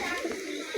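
A white Girebaz pigeon coos softly at close range, a brief low murmuring call over a light background hiss.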